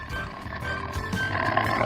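A deep, rumbling lion roar swells and holds loudly for a couple of seconds, rough and growling, with no voices.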